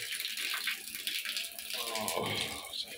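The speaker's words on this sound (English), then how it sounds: "I'll turn it one more time and then it will switch to the top" Water runs steadily from a newly installed multi-head top shower in a house under construction in Ghana, a continuous broad hiss with a rattling edge that rises partway through, close by with no talk.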